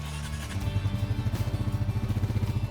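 Off-road ATV engine riding down a steep wall, a steady, pulsing low rumble with rhythmic throttle beats, loud and close throughout with no talking.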